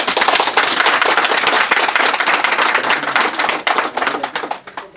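Guests at a Christian wedding clap together in loud, dense applause that goes on steadily and then thins out and fades near the end.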